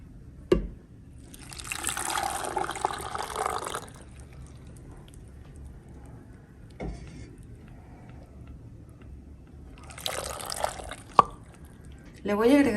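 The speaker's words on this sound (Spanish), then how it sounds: "Del mismo caldo que tenemos listo vamos a agregar una tacita." Broth poured from a small cup into a pot or blender beside a halved poblano chile, two separate bursts of liquid filling a few seconds each, close, with quiet gaps and small knocks in between.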